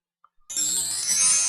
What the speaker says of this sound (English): Here's our chime with our animation.